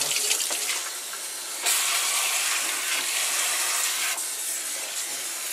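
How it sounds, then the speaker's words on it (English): Water splashing and hissing steadily into a cooking pot on a homemade brick rocket stove, a continuous close pour that surges briefly louder partway through, with no talking. "I'm going to get some water in there"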